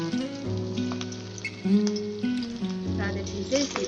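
Fish curry ingredients sizzle in hot oil in a pan, a continuous close crackling hiss with scattered pops, running under a steady tonal background throughout.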